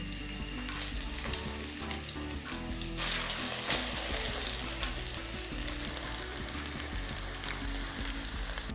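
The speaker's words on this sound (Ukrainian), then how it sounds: "І на середньому вогні обсмажую з обох сторін." Steady sizzling and crackling of waffle batter pieces frying in hot oil in a pan over medium heat, continuous and close, with a few brief clinks partway through.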